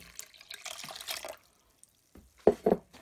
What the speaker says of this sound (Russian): Выливаю литр воды.